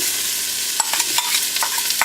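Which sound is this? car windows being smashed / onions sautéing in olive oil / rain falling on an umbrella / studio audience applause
onions sautéing in olive oil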